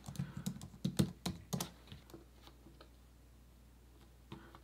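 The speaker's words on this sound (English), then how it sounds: "I'm gonna type in pattern." A burst of quick keystrokes on a computer keyboard, entering a search term in a design app, clusters in the first two seconds, then falls silent before a few last taps.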